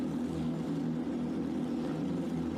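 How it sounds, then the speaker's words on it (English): A steady, low drone of 4-litre flat-six Porsche Carrera Cup racing car engines idling on the grid at Zhuhai hums continuously, even and unbroken, with no voices. "I hear the unmistakable tones of a 4-litre flat 6 on tickover."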